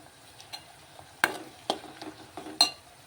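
Curry leaves and chopped green chillies dropped into hot oil give short bursts of sizzle and spatter over a quiet background, with several sharp crackling pops spaced irregularly.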